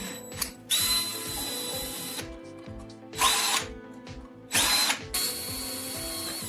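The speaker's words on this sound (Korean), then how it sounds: "병에 구멍을 내세요." A power drill bores holes in a plastic PET bottle in three or four loud, separate bursts of high whine, each separated by short pauses of quieter motor hum.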